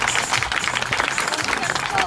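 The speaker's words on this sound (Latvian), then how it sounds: "Nu tad vēlreiz aplausi" Applause rises from the audience at a children's concert during a local festival, a dense patter of clapping heard close and loud, with voices mixed in.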